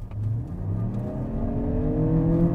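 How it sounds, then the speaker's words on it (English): The gasoline engine of a 2023 Lexus RX500h hybrid SUV revs up in sport mode and climbs in pitch, a rising mechanical roar that grows louder toward the end. "when you put it in the sport mode, the gasoline engine comes on quite a bit"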